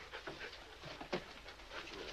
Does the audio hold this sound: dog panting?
yes